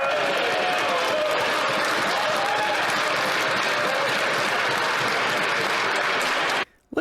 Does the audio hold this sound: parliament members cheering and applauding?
yes